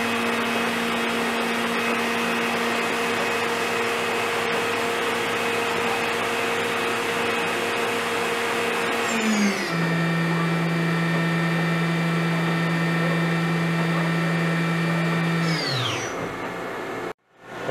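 A 2004 Mori Seiki NH5000/40 CNC machining center spindle whines steadily at high speed, then drops to a lower sustained tone before winding down and cutting off near the end.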